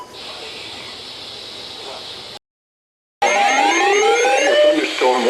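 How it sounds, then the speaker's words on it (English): A NOAA Weather Radio emergency alert plays as a loud steady electronic tone over hiss, breaks off into a short silence, then returns as layered warbling, sweeping alert tones. "This has been a test of the NOAA Weather Radio Public Warning Alarm System."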